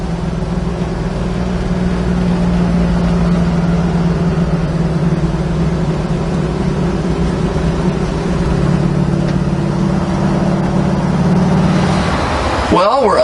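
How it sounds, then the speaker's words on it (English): A 1971 Ford Torino GT with a 429 Cobra Jet V8 runs close by, giving a steady, loud, low drone with a throbbing exhaust note throughout, shifting briefly near the end. "Straight running car."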